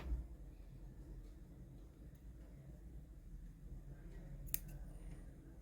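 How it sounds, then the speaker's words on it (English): Scissors snipping crochet yarn at the end of a small yellow flower, with a single brief, quiet cut standing out near the end over a faint low hum. "pull up a loop and cut the yarn"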